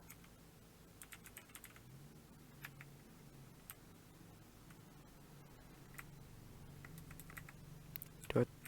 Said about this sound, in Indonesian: Lalu kita ketikkan teksnya.